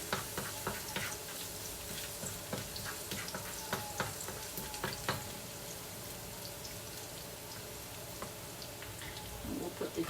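Garlic frying in hot oil in a pan for a chicken stir fry, a soft steady sizzle with scattered faint crackles and pops, fairly quiet and close, no voices.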